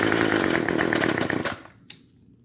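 A gas string trimmer engine runs at high revs, loud and rattling, for about a second and a half, then cuts out and falls nearly silent with one faint click.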